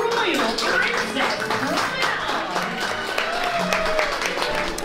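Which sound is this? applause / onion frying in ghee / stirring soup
applause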